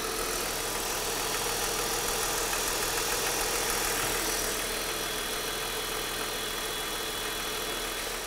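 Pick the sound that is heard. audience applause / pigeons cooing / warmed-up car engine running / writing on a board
warmed-up car engine running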